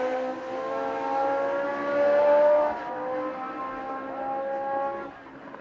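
1978 racing cars in the BRDC International Trophy race, engines droning steadily at a distance with a rising-and-falling pitch as they pass, fairly loud throughout and fading slightly at the end.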